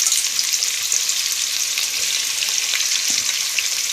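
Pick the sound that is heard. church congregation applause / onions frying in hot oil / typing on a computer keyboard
onions frying in hot oil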